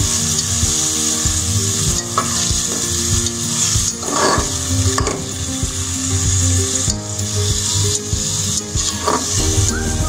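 Onions browning in a pan for achari gosht, a loud, dense, constant sizzle with intermittent scraping and knocks from stirring, close throughout with no voices.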